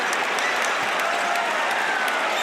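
At a Texas A&M versus Mississippi State college basketball game, the arena crowd keeps up a loud, continuous roar of cheering and clapping that fills the whole moment.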